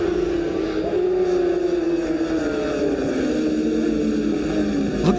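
Racing motorcycles braking hard for a turn, their engine note dropping in a falling whine as several bikes decelerate together, loud and close with a steady mechanical drone underneath.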